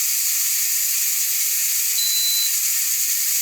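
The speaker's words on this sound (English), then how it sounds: "I do want to talk about the steam. It's kind of loud, right?" Steady, loud hiss of steam venting from a Nesco electric digital pressure canner processing pork, a continuous broadband rush held at even strength throughout, with no talk.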